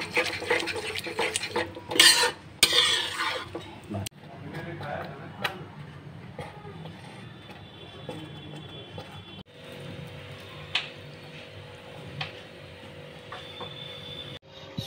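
Pav bhaji is stirred and cooked in a pan: a spoon scrapes and clinks against the metal, with a few sharp knocks early on, and a soft, steady sizzle continues between the strokes.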